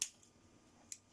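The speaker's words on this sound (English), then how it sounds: "So I'm just going to cut that off there." Wire being cut off a coil: two faint, sharp snips, one at the very start and another just under a second later, with near-silence between them.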